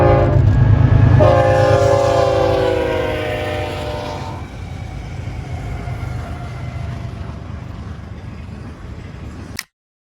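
Westbound BNSF freight train approaching the Amboy grade crossing, its horn blaring loud and sustained in the opening seconds over a heavy engine rumble that lingers and slowly fades, then cuts off abruptly.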